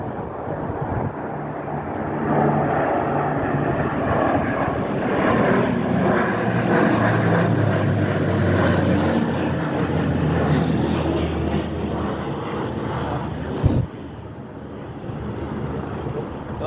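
Aircraft flying over an aviation parade in London for the King of Great Britain's birthday, a large plane with two smaller ones, give a loud continuous engine drone that holds steady throughout with a brief thump near the end; people talk faintly beneath.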